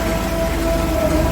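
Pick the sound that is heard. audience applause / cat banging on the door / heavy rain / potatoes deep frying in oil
heavy rain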